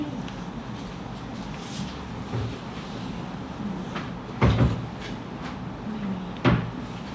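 A drawer in a room is pulled open and rummaged through, giving a few close, sharp knocks and clunks of wood and contents over a low, steady background hum.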